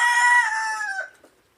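A chicken on a local pig farm gives one close, loud crowing call that trails off into silence.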